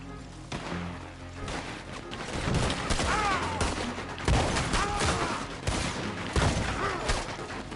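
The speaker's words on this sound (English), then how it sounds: "That machine gun is really just not my friend." Sustained machine gun fire in Red Dead Redemption 2, a dense, unbroken stream of rapid shots mixed with impacts and crashes, loud and continuous throughout.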